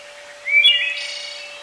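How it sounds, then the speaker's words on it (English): Birds chirping on a foggy, frosty morning at sunrise in Pennsylvania woods, a short bright call rising and trailing off, fairly near and alone over a faint steady hum. "birds are chirping."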